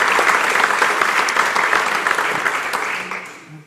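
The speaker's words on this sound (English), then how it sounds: "I'd like for you to give a round of applause" An audience at the University of Kentucky State of the University Address claps in a steady, dense burst of applause that fades out toward the end, with no voices over it.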